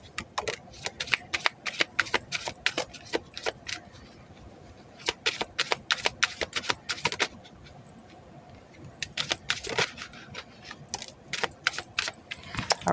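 Tarot cards are shuffled close to the microphone. Quick riffling bursts and snappy flicks come in several rounds with brief pauses between them, and no speech is heard.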